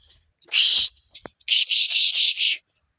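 A pet bird kept indoors gives one loud, harsh screech, then after a short pause a run of five rapid shrill calls, all close and clear with no talking over them.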